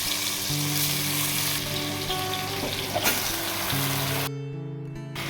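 Bay leaf and onion fry in a pan for chicken adobo with a loud, dense, continuous sizzle close up, a stirring knock near the middle and an abrupt drop in level near the end.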